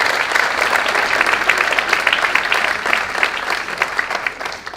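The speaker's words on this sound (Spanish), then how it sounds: "Un gran aplauso a Gustavo Lupo, a todos estos que organizan esta cosa." An audience at a lecture gives loud, close applause for the event organizers, a dense rapid patter of many hands that continues evenly for several seconds before tapering off at the end.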